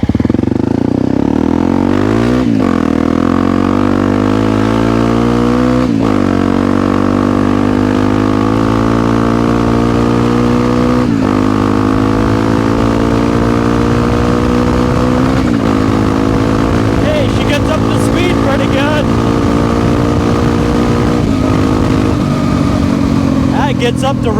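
A Honda CRF250L engine pulls hard while riding, its single-cylinder tone climbing through several gears with short dips at each shift, loud and close over steady wind rush as a rider talks.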